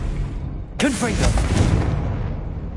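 A Confringo spell is cast in Hogwarts Legacy: a sudden fiery blast with swooping tones, then a crackling, rumbling burst that slowly fades.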